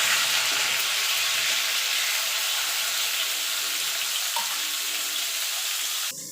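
Pointed gourd and potatoes fry in hot oil, giving a steady, loud, close hiss of sizzling that runs unbroken before cutting off abruptly at the end.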